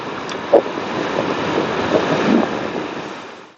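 Wind rushes steadily over a half-face motorcycle helmet fitted with a Bluetooth intercom while riding on an ordinary road, a loud continuous roar with a few faint bumps.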